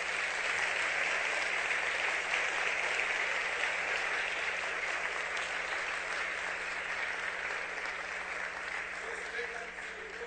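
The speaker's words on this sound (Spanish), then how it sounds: "un fuerte aplauso a sus hermanos en el mundo entero." A crowd at an event in Tegucigalpa, Honduras, gives steady, sustained applause, a dense wash of clapping that holds for about ten seconds and eases slightly at the end.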